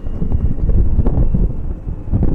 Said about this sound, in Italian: Vedete, c'è anche abbastanza vento oggi.